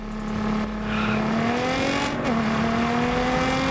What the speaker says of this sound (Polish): Fajnie brzmi ten Nissan. I w ogóle jak stoisz na idlu, to on też fajnie tak bulgoczy, ta V6, i to też słychać.